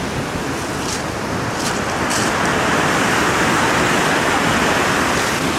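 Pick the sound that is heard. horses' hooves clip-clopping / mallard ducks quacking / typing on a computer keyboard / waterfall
waterfall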